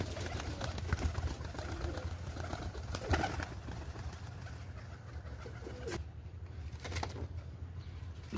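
Two pigeons in a pigeon house coo softly and close by, with occasional sharp wing flaps and scuffles over a steady low hum of background noise.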